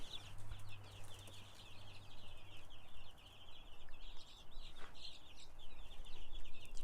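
Week-old Freedom Ranger chicks in a brooder under heat lamps give a steady stream of high, busy peeping and chirping, with a low hum running underneath.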